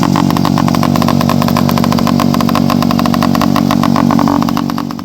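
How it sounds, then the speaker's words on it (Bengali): A motorcycle running with its silencer removed at a police checkpoint in Krishnanagar, Nadia, giving a harsh, very loud, steady, close exhaust roar that holds for about five seconds before easing slightly at the end. "বাইকের বিকট আওয়াজ আর এর জন্যই বাইকের সাইলেন্সার খুলে দিল পুলিশ"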